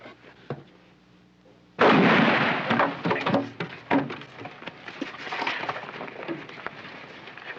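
A sudden loud blast of cannon fire in a Western gunfight, followed by a dense volley of sharp cracks and booms that slowly thin out, with a quieter lead-in beforehand.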